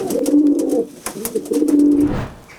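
Pigeons coo close by in two rounds of soft, throaty, rolling calls with a short pause between them, loud and clear with no talk.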